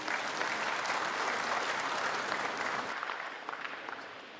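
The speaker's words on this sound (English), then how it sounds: "With a round of applause, let's welcome the Chairman of the Governing Council" Steady, full round of applause from a large audience at a university investiture ceremony in Ghana, welcoming the governing council chairman, sustained and then tapering off toward the end.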